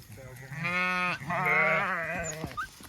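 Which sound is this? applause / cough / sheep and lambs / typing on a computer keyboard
sheep and lambs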